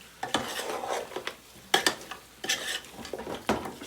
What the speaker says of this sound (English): Now I'm mixing the spices